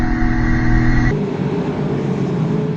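A TA2 muscle race car with well over 500 horsepower roars close by with a throaty, steady engine note that drops abruptly to a lower, rougher rumble partway through as it passes or shifts.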